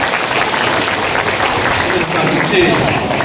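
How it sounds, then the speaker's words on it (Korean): An audience applauds at the close of a political talk concert in Busan, a loud, dense wash of clapping from a crowd that holds steady for a few seconds, mixed with amplified speech. "박수로 마무리하겠습니다."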